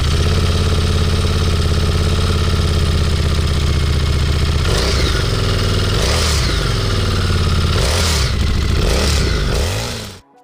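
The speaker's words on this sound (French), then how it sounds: "Le V-Twin Revolution X, 4 soupapes à refroidissement liquide, est calé à 60 degrés" A 2017 Harley-Davidson Street Rod 750 with a liquid-cooled 60-degree V-twin, four valves per cylinder, idles steadily and loudly up close, then blips through several sharp throttle revs before cutting off abruptly at the end.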